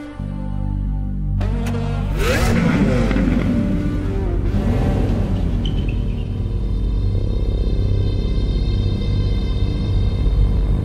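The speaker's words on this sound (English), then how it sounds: "Our naturally aspirated V12 and the Aventador prove this once more." A Lamborghini Aventador LP780-4 Ultimae's naturally aspirated V12 starts up and then revs hard twice in loud, sweeping bursts before settling into a deep, steady idle close by.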